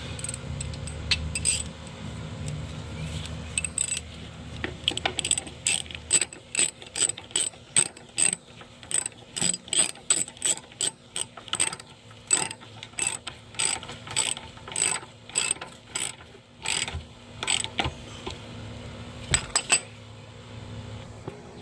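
A ratchet with a 14 mm socket clicks in quick repeated bursts, close and crisp, snugging a bolt during a dual clutch transmission replacement on a 1.6L Hyundai Veloster.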